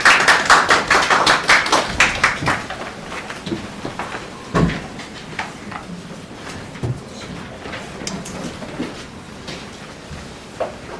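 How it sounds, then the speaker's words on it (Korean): A brief round of applause from a seated audience at a National Assembly hearing on the Korean film industry: scattered claps that are loudest at the start, then thin out into sparse, fading taps. "박수 부탁드리겠습니다."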